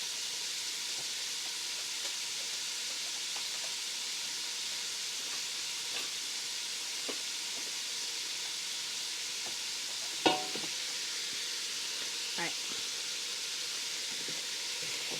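Chopped onions and four sticks of celery soften in a pan for lentil soup, giving a steady, even sizzle and hiss with a few faint utensil taps and one sharper clack near the end.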